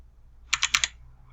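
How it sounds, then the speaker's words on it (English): Four quick, crisp keystrokes on a computer keyboard, entering a server IP address during network configuration, close and clear, with a short burst of clicks in an otherwise quiet room. "So here I'm typing in the IP address of my server."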